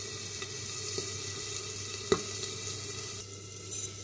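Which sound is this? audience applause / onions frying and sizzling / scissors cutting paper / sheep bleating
onions frying and sizzling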